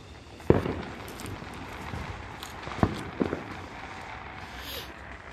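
Small Fourth of July fireworks set off nearby, giving a few sharp pops and cracks at irregular intervals over quiet outdoor background, no talk.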